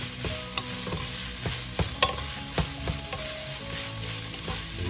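Ingredients for Filipino chicken sopas sautéing in a pan, a steady close sizzle with a few sharp clinks and scrapes of stirring throughout.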